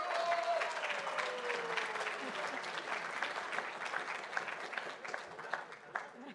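Enthusiastic audience applause and cheering at the 2024 Western Australian Premier's Book Awards ceremony, steady clapping mixed with whoops that holds for several seconds, then thins toward the end.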